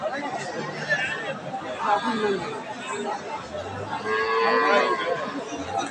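Cattle at a rural livestock market, with a cow giving drawn-out low moos amid constant crowd chatter and close conversation, the lowing rising over the hubbub a couple of times.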